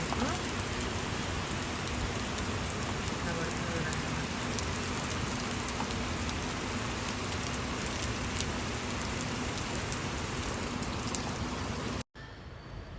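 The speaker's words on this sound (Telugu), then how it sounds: "వర్షం అయితే కొంచెం పెద్దగానే పడుతుంది" Heavy rain pours steadily and densely for several seconds, a constant close hiss of drops on a surface, with a brief cut near the end.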